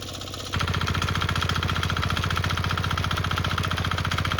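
A Sharp Garuda mini weeder's diesel engine idles quietly for a moment, then picks up into a loud, rapid, evenly pulsing chug that continues steadily close by, with no talk.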